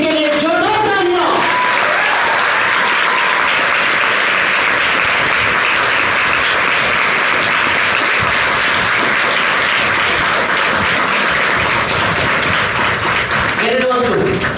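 Loud, dense applause from an assembled audience at an academy event, sustained evenly for over ten seconds, with a voice speaking briefly at the start and again as the clapping ends.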